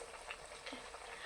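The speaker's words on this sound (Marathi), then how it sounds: "असा मस्त तेलात सोडून द्यायचा" Halwa paratha, a flatbread, sizzles softly in hot oil, a faint continuous crackle and hiss heard close with no talk.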